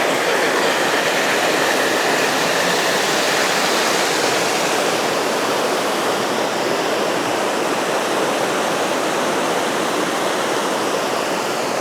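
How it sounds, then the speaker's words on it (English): Water from a Scottish reservoir near Lochwinnoch rushes out in a loud, continuous roar, steady throughout like a heavy outflow or weir, with no voices. "Water's fair shifting out of here."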